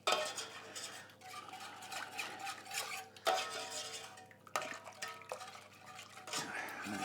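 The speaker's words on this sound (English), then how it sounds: "I'm just going to give that a bit of a stir" A spoon stirs chopped parsley into a pan of fish cooking liquor for a parsley sauce, giving soft scraping and clinking against the pan in irregular bursts, with quiet liquid sloshing between.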